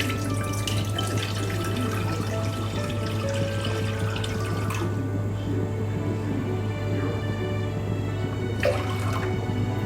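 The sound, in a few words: water poured into a cooking pot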